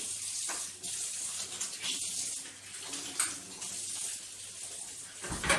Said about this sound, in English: as usual, we're going to wash our hands.